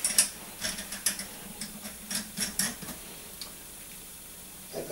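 A ratchet wrench tightens the top end of a 54 mm PMTuning scooter cylinder, a series of close, crisp clicking strokes in uneven bursts.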